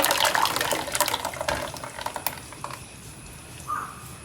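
Water is poured into a jaggery mixture made with about a kilogram of jaggery, giving a splashing, gurgling pour that is loudest at first and then tapers to a faint trickle.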